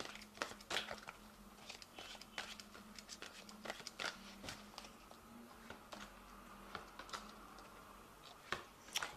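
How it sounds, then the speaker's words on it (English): Angel Tarot cards being drawn and handled from a deck, giving quiet papery shuffles, snaps and crinkles in an irregular run of close, faint ticks and rustles over a low background hum. "So I'm going to just draw some cards from the Angel Tarot."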